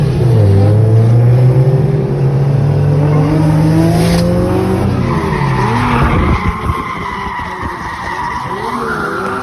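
Drift cars in a four-car tandem crash at a track, a loud continuous engine roar with tire skidding and squeal throughout, one car's K-series-swapped Subaru BRZ among them, shifting pitch midway as the cars collide.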